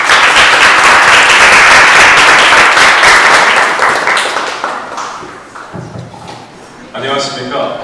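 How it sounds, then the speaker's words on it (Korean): Audience applause at a youth seminar welcomes a speaker to the podium, loud and dense at first, then thinning and fading over several seconds, with voices and a few stray claps near the end. "박수로 맞이해 주시길 바랍니다."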